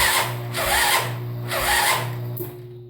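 A 2001 Yamaha Grizzly 600 ATV engine runs with the choke on, rising and falling in a rhythmic whine with a binding, grinding tone over a steady low hum, close and fairly loud.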